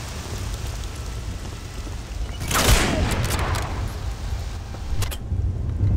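Gunfire in the World War II shooter game Medal of Honor Allied Assault, a burst of shots standing out from steady rain-like battle noise, followed by a few brief sharp reports over a constant background.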